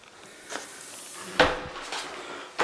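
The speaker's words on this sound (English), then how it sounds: "closing device on the garage door. Closes." A garage door with a closing device swings shut in a repaired house, producing a few soft knocks and a sharper latch click near the middle, followed by a final click, in a quiet room.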